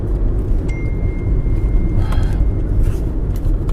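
A gold car passes nearby on a road, its low, steady rumble swelling gently over a few seconds amid outdoor background noise.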